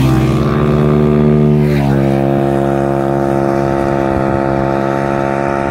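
A Scoopy two-wheeled scooter rides along a road on the way to work, its engine a loud, steady droning hum whose pitch dips around the two-second mark as it passes.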